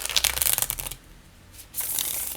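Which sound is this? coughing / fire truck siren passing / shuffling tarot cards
shuffling tarot cards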